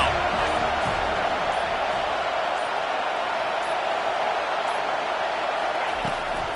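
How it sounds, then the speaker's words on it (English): A football stadium crowd roaring on third down, a dense continuous wall of cheering that stays loud and steady throughout, with no distinct voices standing out. "Decibels rising as the crowd gets behind this defense on 3rd down."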